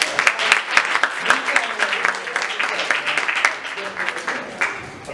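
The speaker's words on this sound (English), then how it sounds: "Give yourselves a hand," An open mic audience claps and applauds continuously, a dense patter of many hands close by and fairly loud throughout.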